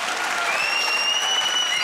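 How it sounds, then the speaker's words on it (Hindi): Studio audience applause on a comedy talk show, a dense, continuous roar of clapping throughout with a thin whistle rising over it partway through. "अब जिनको लगता है टीपू भाई ने अच्छा बनाया वो तालियां बजाएं"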